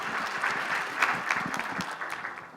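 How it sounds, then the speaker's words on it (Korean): Forum audience in a conference hall claps to welcome a government speaker. Individual hand claps stand out within the moderate, fairly close applause, which tapers slightly near the end. "따뜻한 박수로 맞이해 주시기 바랍니다"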